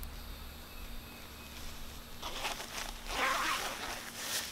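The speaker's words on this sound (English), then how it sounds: "the zipper's a little on the firm side getting up and down" The zipper on a Montbell Versalite rain jacket is pulled up and down, giving a couple of quick, close rasping zips over a quiet background.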